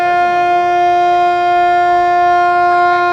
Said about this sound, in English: Sobering siren, cars blaring their horns, and the sounds echoed in the city.